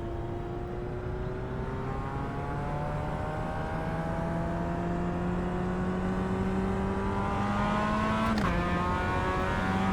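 Mazda MX-5 race car engine in iRacing, a steady loud in-car drone with the pitch climbing smoothly through the gear, then a brief drop at a shift before rising again; no talking.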